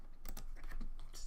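Keystrokes on a computer keyboard while writing Rust code, a quick run of close, crisp clicks at a steady moderate level over a faint background hum.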